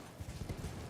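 Horse hooves clip-clop in the Elden Ring video game, a short quick run of muffled low thuds in a fast gallop rhythm, brief and fairly faint.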